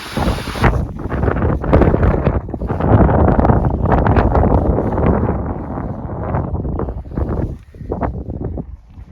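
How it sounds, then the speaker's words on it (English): Strong wind gusting against the microphone on a mountain at Glencoe, a loud continuous rumbling buffet that swells and eases over several seconds. "I hope you can hear me over the wind."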